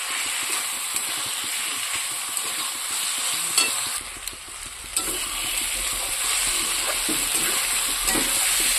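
Turmeric and chili powder sizzle as they are sautéed in a pan with oil, a steady frying hiss with scraping stir strokes and occasional clinks throughout, no talking.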